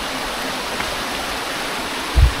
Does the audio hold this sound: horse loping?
no